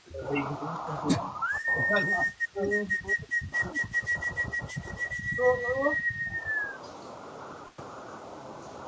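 A long, high whistled note is held steadily for several seconds while people talk and laugh underneath, then it slides off and fades.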